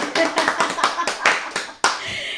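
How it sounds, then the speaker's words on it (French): A short burst of clapping, several hands applauding with uneven claps, fairly close, fading out after a couple of seconds. "On applaudit pour maman."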